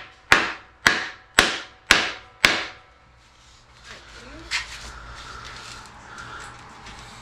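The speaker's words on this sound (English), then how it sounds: "I'm gonna get a piece of wood and a hammer real quick." Five sharp, evenly spaced hammer blows ring out on a piece of wood during Yamaha Road Star motorcycle repair work, followed by quieter shop rustling and small knocks.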